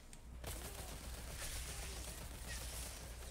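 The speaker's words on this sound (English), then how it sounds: "Oh, this automatic shotgun fires so fast." Automatic shotgun in the video game Outriders firing rapidly, a dense burst of blasts layered over battle noise at moderate level, no speech.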